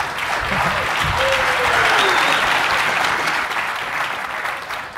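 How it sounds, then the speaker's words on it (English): Audience at a KubeCon tech conference talk applauds, a broad wash of clapping that swells and then tapers slightly, with faint voices underneath. "let's do a big round of applause for rebasing onto Kubernetes."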